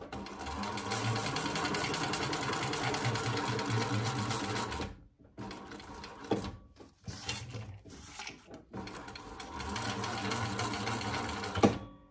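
A Thor sewing machine bastes the sides of a waxed canvas waist pack, running in long loud bursts of rapid stitching, broken by short pauses and clunks in the middle before running steadily again.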